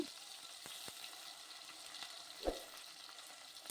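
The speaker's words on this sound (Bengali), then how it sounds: "এরপর ধুয়ে রাখা কুলগুলো দিয়ে দিলাম" Washed jujubes tipped into a pan for a sweet, sour and spicy pickle, with a faint steady sizzle and one soft thump as they land.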